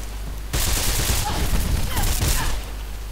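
A burst of rapid gunfire in Mirror's Edge, kicking in abruptly and rattling loudly for about two seconds with overlapping shots and impacts, then dropping back to background game noise.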